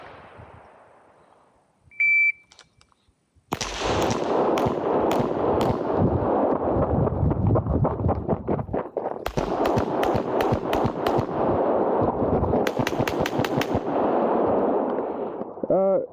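Rapid pistol shots fired in quick succession during a Bill Drill and transitions practice, loud sharp cracks repeating in bursts close to the microphone, with a single electronic timer beep before the string starts.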